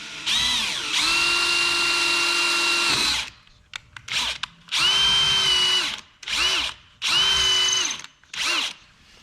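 A drill bores into the cavity of a 48RE transmission case, first one long steady whine of about two seconds, then several shorter pulsed bursts with brief quiet gaps.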